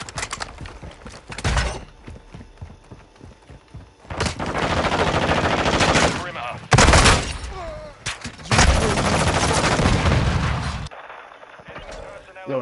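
Bursts of rapid automatic gunfire and heavy booms from a Call of Duty match come in loud, dense volleys separated by short quieter gaps, with a couple of sharp single shots early on and faint voices in the background.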